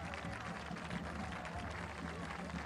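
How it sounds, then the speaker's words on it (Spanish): Applause from an outdoor political rally crowd at Parque España in Rosario greets a speaker, a steady dense wash of clapping heard from a distance and fairly quiet, with no words spoken over it. "Fuerte el aplauso, bienvenido Agustín."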